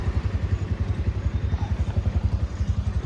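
A motorcycle readied for a long ride idles up close with a steady, rapid low thumping pulse that holds an even rhythm throughout, with no voices.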